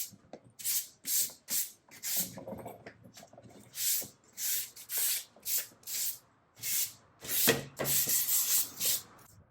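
Repeated short spray bursts of paint on IKEA Hemnes furniture during a second coat, about a dozen hissing blasts in an uneven rhythm with brief pauses, close and fairly loud with no talk.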